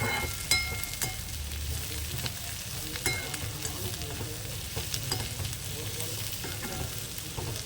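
Bitter gourd slices sautéing in a pan, a steady close sizzle broken by repeated spatula scrapes and clicks against the pan at an irregular pace, with no talking.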